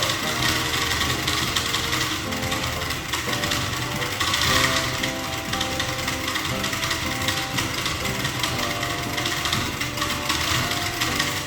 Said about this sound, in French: C'était l'expérience du moteur, voilà comment fonctionne un moteur.